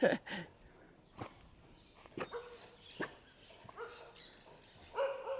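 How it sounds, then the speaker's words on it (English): Several dogs bark in short bursts at moderate distance at a temple in Ang Thong, Thailand, with a few yips and light footsteps moving around between the barks. "there's quite a few dogs, and even more are coming now"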